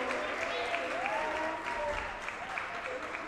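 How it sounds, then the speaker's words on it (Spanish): Soft applause from a press conference audience honoring children, a faint diffuse patter of clapping with murmuring voices and a brief whistle-like tone drifting through. "Que se sienta ese aplauso"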